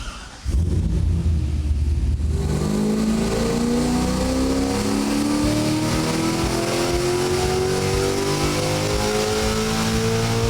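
Chevrolet Corvette C5 Z06 with bolt-on power, engine revving on a dyno: a loud, steady full-throttle pull whose pitch climbs continuously for about ten seconds after a sudden start, close and alone without talk.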